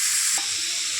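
Capsicum stir-frying in hot oil for fried rice gives a loud, continuous sizzle close by, with one brief knock of a stirring utensil partway through and no voices.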